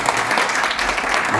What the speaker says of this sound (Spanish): un nuevo aplauso para este gran personaje